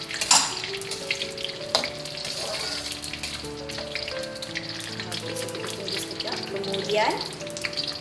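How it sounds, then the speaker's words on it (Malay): Dried chili pieces, cut small, fry in oil with cinnamon and star anise, giving a steady crackling sizzle with stirring clatter throughout, and a brief word spoken near the start. "Kemudian kita masukkan cili kering yang dipotong kecil ke dalam minyaknya."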